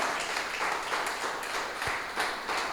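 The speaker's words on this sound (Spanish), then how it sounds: "¿No debería aplaudir a Dios por eso? Apláudale." A church congregation applauds together, a dense, steady wash of clapping from many hands that carries on for a few seconds without a break.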